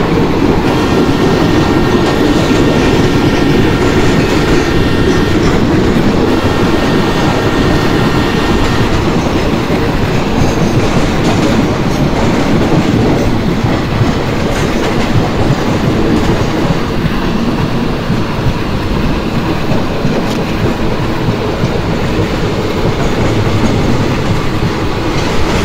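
Jhelum Express passenger train from the MSTS Open Rails simulator, a steady loud rolling rumble with rhythmic clickety-clack of wheels over rail joints, continuous throughout as the train slowly gathers speed.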